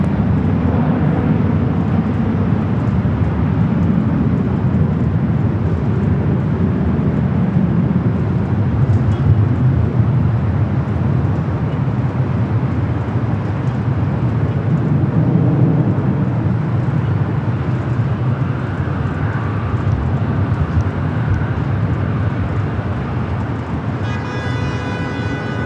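A Southwest airliner taxis at LAX airport, its jet engines producing a loud, steady broadband roar that holds unbroken throughout, with no talk over it.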